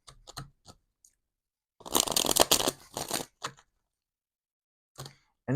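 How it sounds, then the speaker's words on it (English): A tarot card deck is shuffled close up, with a few soft flicks followed by a dense riffling burst, then scattered card taps and snaps separated by quiet gaps. "I'm going to shuffle the deck."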